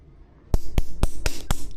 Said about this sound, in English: and then just hammer away.